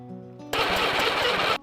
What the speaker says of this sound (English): With the engine rebuilt, a new problem surfaces. The engine runs,